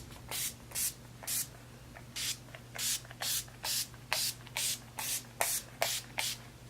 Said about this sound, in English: I'm gonna go ahead and finish it off with my favorite setting spray. It's the Urban Decay All Nighter Setting Spray